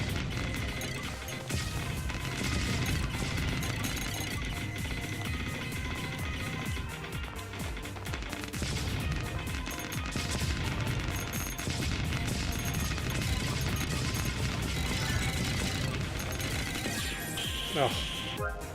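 Dense bullet fire in the shoot-'em-up game Sisters Royale: a relentless stream of rapid shots and impact crashes, loud and continuous over swing-style background music, with a voice talking over it.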